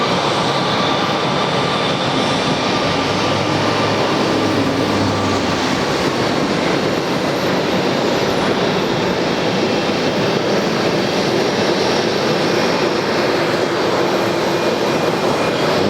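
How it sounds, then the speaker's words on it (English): An Airbus A321ceo powered by CFM56-5B engines roars steadily at an Atlanta airport, a loud broadband jet rumble with a constant hiss, close and unbroken for the whole stretch, with no voices. "although it is another A321ceo. And here it is right here. Not IAE. These are CFM 56 engines."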